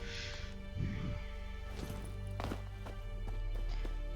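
Horse hooves clip-clopping in The Witcher 3 video game, a steady run of hoofbeats layered over a continuous game soundscape with a few sharper knocks, and no talking over it.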